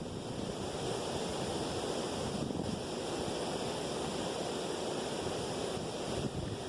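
Rushing river torrent at Etienne Brule Park in Toronto during the salmon run, a steady broad roar of churning water mixed with wind buffeting the microphone, constant and close with no talk.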